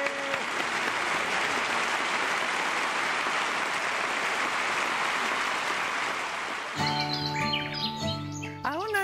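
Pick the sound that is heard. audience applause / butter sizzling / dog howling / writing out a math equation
audience applause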